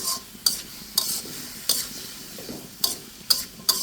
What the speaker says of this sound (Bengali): সব কিছু দিয়ে খুব সুন্দর করে একটু নেড়ে চেড়ে মিশিয়ে দিচ্ছি।